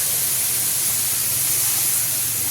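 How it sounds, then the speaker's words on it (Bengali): Nigella seeds and spices crackle and sizzle in hot oil in a large iron wok, a steady loud hiss that fills the whole moment without a break. "কিন্তু তার আগে ফোড়ন দিয়ে দিই কালো জিরে"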